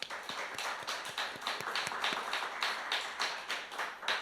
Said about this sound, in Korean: 우리 하나님 앞에 좀 함께 영광의 박수 함께 드렸으면 좋겠습니다.